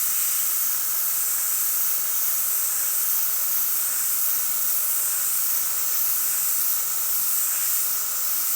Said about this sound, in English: Again, I'm spraying more on the paper shield